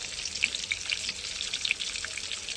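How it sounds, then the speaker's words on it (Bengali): An egg fries in hot oil with a faint, steady crackle and scattered sharp pops and spits, quiet and close with no talking. "এবার ডিমটা ভাজা হতে থাক"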